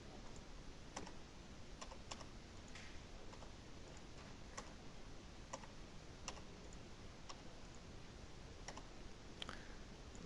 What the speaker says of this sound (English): What I do have to type in again is the formula here.